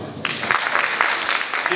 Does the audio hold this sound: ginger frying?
no